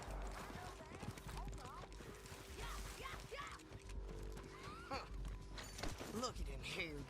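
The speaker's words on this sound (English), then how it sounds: "horses!" Horse hooves in Red Dead Redemption 2 clip-clop at a steady walking pace beneath a voice and other game sounds, with a low constant hum underneath.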